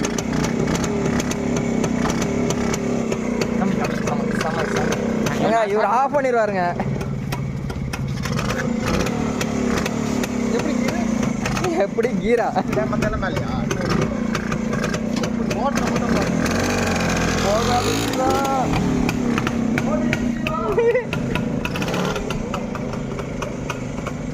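A 1983 Rajdoot motorcycle engine runs steadily after starting, a loud, continuous mid-pitched idle with slight revving, with people talking over it throughout.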